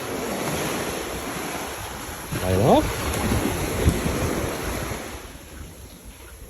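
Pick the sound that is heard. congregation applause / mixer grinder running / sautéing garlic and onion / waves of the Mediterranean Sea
waves of the Mediterranean Sea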